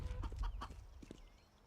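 Chickens cluck in Counter-Strike: Global Offensive, a few short, fairly quiet bursts of clucking close together with a brief pause, alone without talk.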